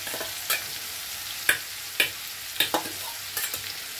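Fried potato and pointed gourd are stirred into a mixed vegetable curry with prawns in a pan, giving soft frying sizzle broken by scattered scraping knocks of a spoon against the pan.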